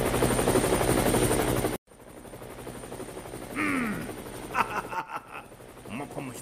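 Helicopter rotor effect in a radio comedy drama episode, a loud steady chopping drone that cuts off abruptly, then quieter rotor noise returns under voices and sharp bursts like gunfire.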